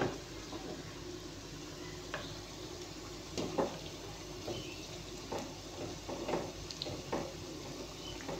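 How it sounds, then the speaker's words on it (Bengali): Potato French fries frying in a pan of oil, a soft continuous sizzle with occasional light taps and scrapes of a utensil, fairly quiet and steady, no voices. "এখন আমি এটাকে লাল লাল করে ভেজে নেব।"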